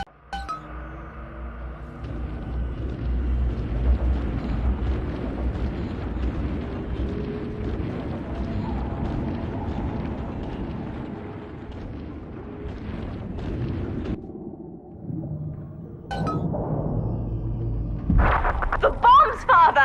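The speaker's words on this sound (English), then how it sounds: "The bombs, Father!" Bombs explode in BioShock 2 as a deep continuous rumble with crashing booms and clinking debris that swells near the end, with voices speaking over it.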